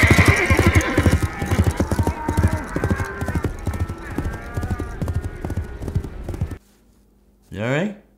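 Rhythmic foley imitation of horse hooves clip-clopping trots along under background music and a voice, then stops; a brief whinny follows after a pause.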